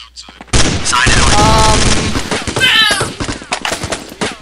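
Rifle fire in the video game Counter-Strike, a loud rapid burst of close shots starting abruptly, with a voice talking over the gunfire.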